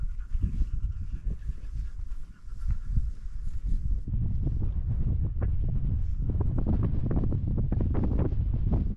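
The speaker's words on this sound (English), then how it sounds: "It's a bit windier than it was last night" Strong wind buffets the microphone at a mountain wild camp in Snowdonia, a loud continuous roar with gusty rumbles that ease briefly and then build to a steady, heavy blast.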